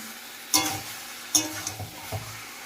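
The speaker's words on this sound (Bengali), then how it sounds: "সব আমি কড়াতে কষিয়ে নেব।" Mutton being stir-fried in a kadai, a quiet steady sizzle broken by a few sharp scraping stirs of a spoon against the pan, close by, with no talk.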